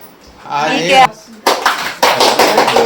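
Hand clapping from a group at a home birthday celebration, bursting in loud, dense bursts after a brief stretch of voices, with talk mixed underneath.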